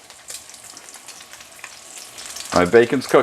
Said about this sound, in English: So, while the bacon is cooking,